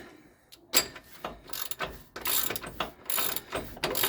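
Ratchet wrench tightening the rear axle nut on a 2006-10 Ford Explorer during a wheel bearing replacement, giving close, loud bursts of rapid clicking in several short runs with brief pauses between.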